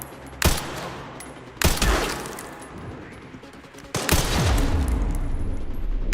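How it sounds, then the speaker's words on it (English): Gunfire in the survival horror game Resident Evil Requiem: three sharp, loud shots spaced over several seconds, each with a booming tail, over a continuous low rumble. "Where is he shooting from?"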